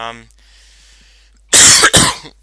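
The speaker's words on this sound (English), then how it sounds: "if you've noticed, I'm actually coughing" A couple of loud, harsh coughs close to the mic, following a quiet stretch with a faint hum.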